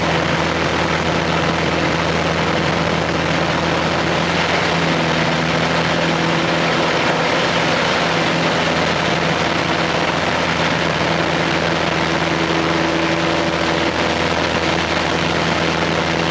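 Aerobatic team aircraft flying together in formation through a horizontal 360 turn, a steady loud engine drone with constant low hum that holds throughout with no break.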